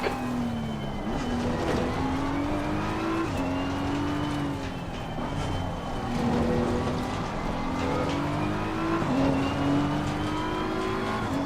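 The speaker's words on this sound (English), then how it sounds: "Faster car coming up behind you." Race car engine in a GT3 racing video game, a steady loud drone with rising revs that drop and climb again through gear shifts, as a faster car closes in from behind.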